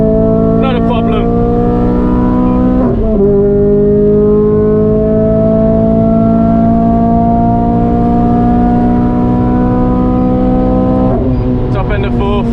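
A RenaultSport Clio 200 Mk3 engine on a track makes a loud, continuous in-car drone that climbs slowly in pitch under load, with short breaks near the start and end.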